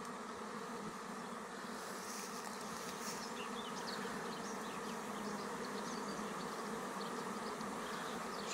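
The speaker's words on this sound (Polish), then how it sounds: "Pszczółki wchodzą." A shaken honeybee swarm pours into a wooden swarm box, giving off a dense, steady buzzing drone of many bees, close and continuous with no talking.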